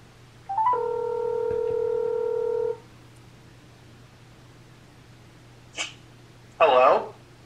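A phone call placed on speakerphone: a few dialing beeps and a long steady tone, then a pause and short bursts of sound from the line.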